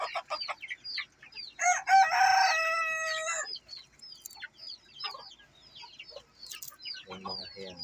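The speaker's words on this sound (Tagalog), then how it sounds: "So meron pa tayo isang rooster dito na white." A white rooster crows loudly near the middle, its harmonic call rising and holding for a couple of seconds, among steady chirping birds and clucking hens throughout.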